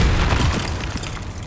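A Confringo fire-blast spell explodes in the Hogwarts Legacy video game, heard as a loud, booming low-end burst at the start that rumbles and then fades into a sustained roar of battle noise.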